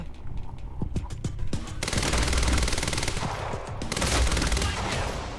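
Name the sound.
gunfire in video game Quantum Break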